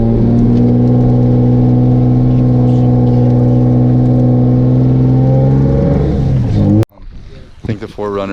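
A Toyota 4Runner stuck in deep snow revs hard, its engine droning loud and steady for several seconds before cutting off abruptly, followed by scattered movement and a voice nearby.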